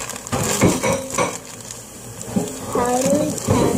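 Baking dish clatters and clinks against pots and metal in a home kitchen while brownies are being made, with a few sharp knocks and scrapes over close background noise and voices.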